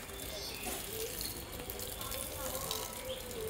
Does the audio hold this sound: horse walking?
no